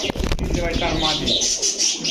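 Pakistani-blood Babra pigeons give a brief, close, throaty coo, a rolling call that swells and pulses over a couple of seconds.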